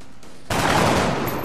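Gunfire in the strategy game XCOM: Enemy Within: after a short quiet, a sudden loud burst of rapid shots rolls into a sustained, noisy volley that fills the rest of the moment, with no talking.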